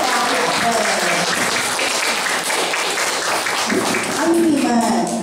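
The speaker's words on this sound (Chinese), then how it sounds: "我们一并掌声欢迎他们" Applause from an audience at a school academy's end-of-term showcase as guests are welcomed, a steady dense clapping wash throughout, with voices and some children's chatter mixed in.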